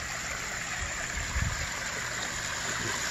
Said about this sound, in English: Nice little pondless waterfall.